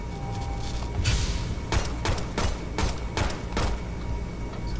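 In the video game Shadow Complex, several booming blasts go off in quick succession over a continuous low rumble, loud and close, with bursts of crackling debris.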